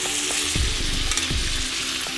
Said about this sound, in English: Now when you cook prawns, always for a short time over a high heat.